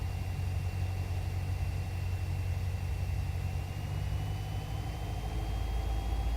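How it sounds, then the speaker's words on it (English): A Cessna 172 flies in the traffic pattern, its piston engine droning steadily with a constant low hum and a faint high whine, alone and unbroken. "I'm trying to get a little better with that engine sound"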